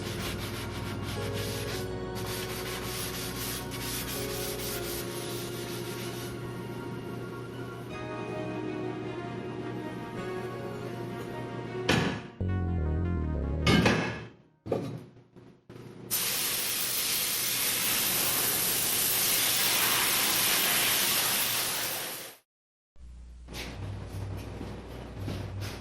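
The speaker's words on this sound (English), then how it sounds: "To prevent contamination of the welds, they needed to be scrubbed with heavy-duty industrial heat greaser" Stainless steel welds are scrubbed with heavy-duty industrial degreaser and then rinsed, first a rough steady rubbing, then uneven scraping bursts, then a long loud hissing spray of water, with a short gap before the scrubbing resumes.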